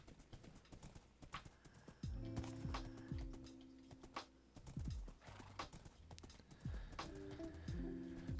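Scattered horse hoofbeats and short neighs from Minecraft, with a few sharp clip-clop hits over a soft background hum.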